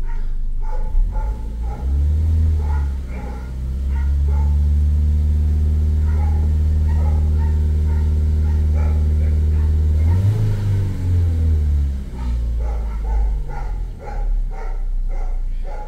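Ford Fiesta with a faulty radiator fan revved in a garage: the engine climbs to a sustained high rev, drops, revs again briefly and settles, with a dog barking repeatedly throughout.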